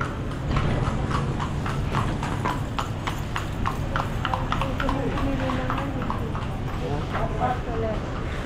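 A horse's hooves clip-clop steadily on a street in Soler, a quick, regular run of sharp knocks over traffic rumble, with people talking nearby.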